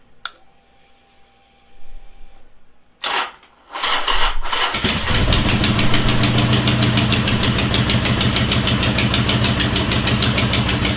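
A 2009 Harley-Davidson Sportster 1200 Low motorcycle cranks briefly in bursts, then its engine catches and settles into a loud, steady, close idle with a rhythmic lumpy pulse.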